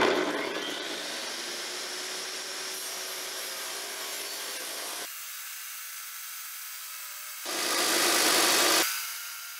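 An IQ tile saw cutting through 5/8-inch-thick quartz, giving a loud continuous grinding whine that abruptly thins out midway, then surges back in a brief harsher burst before fading, close and unbroken by talk.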